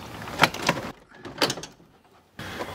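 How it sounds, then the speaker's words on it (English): An interior door panel is pried up and lifted off a 2013 Ford E350 van, giving a few sharp plastic snaps and thuds close to the microphone, separated by brief quiet. "Now this door panel lifts up."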